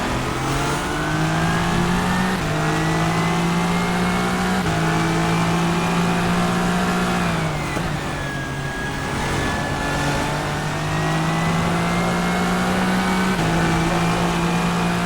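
Continuous, loud engine note of a Le Mans LMD hypercar racing in rFactor 2, a sustained harmonic whine climbing through the gears, dropping briefly on a lift around midway, then pulling hard again, without voices.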